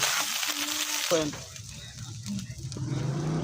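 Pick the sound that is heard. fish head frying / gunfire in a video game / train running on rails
fish head frying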